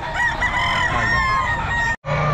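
Chickens at a busy Philippine pet market give a loud, drawn-out rooster-like crow that carries close and strong, then breaks off briefly before the clucking and calling go on.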